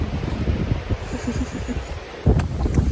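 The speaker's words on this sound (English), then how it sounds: "It's still windy." Strong gusty wind buffets the microphone outdoors at a horse stable, a rough low roar that surges unevenly, with a few faint knocks and rustles.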